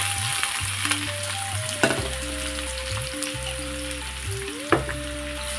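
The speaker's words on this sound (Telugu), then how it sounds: "ఆయిల్ హీట్ అయినాక ఉల్లిపాయ పచ్చిమిర్చి ముక్కలు వేసుకొని ఫ్రై చేసుకోవాలి." Onion and green chilli pieces fry in hot oil for gongura chicken, a close sizzle with a few sharp clinks of a spoon against the pan, under a steady tonal hum, with no talking.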